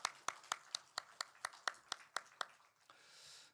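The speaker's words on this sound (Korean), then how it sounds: "다시 한번 우리 축복과 격려의 박수 하시겠습니다" A church congregation at a Sunday service claps in a steady rhythm, about a dozen sharp, evenly spaced claps that fade out toward the end, with no voices over them.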